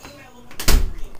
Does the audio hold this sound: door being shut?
yes